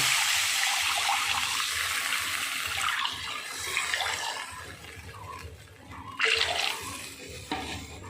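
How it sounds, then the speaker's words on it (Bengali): Water pours steadily into a pan of fish curry cooking with oil and turmeric, a close, loud continuous gush that thins out, then swells again in a short final burst, with no talk. "এবার আমি জল দিয়ে দিচ্ছি"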